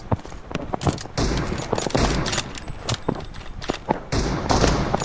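Rapid bursts of gunfire ring out in a shooter video game, sharp repeated shots in clustered volleys with short pauses between them, loud and close throughout.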